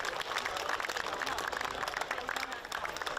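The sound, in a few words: crowd applause after a football match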